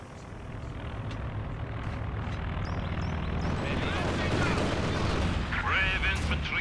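In the Company of Heroes 2 Eastern Front battle, gunfire and machine-gun bursts mix with the drone of enemy aircraft engines, the noise building steadily, while voices shout over it.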